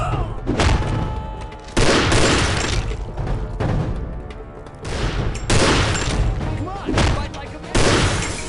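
Heavy gunfire in the video game Postal 2, loud bursts of shooting and booming shots in several dense clusters over a busy game soundscape, with a voice speaking briefly.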